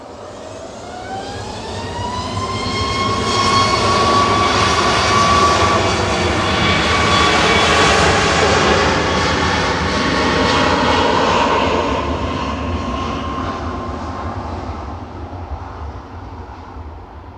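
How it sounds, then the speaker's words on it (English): A Gulf Air jet taxis at Manchester Airport, its engine whine rising in pitch and swelling into a sustained roar before slowly easing off, near and loud with no speech. "A bit of a weird way for Gulf Air to be taxing"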